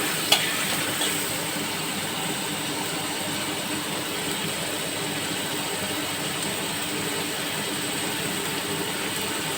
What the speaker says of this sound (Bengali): মশলাটাকে একটু নাড়াচাড়া করে দেবো